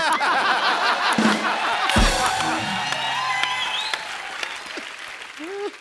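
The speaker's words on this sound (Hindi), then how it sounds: "ये बधाई आपने तालियां मारी ना अभी अभी।" An audience applauds at a televised comedy show, loud clapping that swells with a few whoops and chuckles, then thins out as voices come through over the last seconds.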